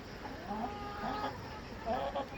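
Tiger-breed chickens on a commercial poultry farm give faint, scattered clucks over a low, steady barn hum, with the birds sounding somewhat distant.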